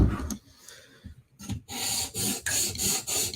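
Knife blade drawn across an abrasive stone on a profile pass while sharpening, repeated rasping strokes, softer and scattered at first, then a rhythmic run of about five loud close scrapes.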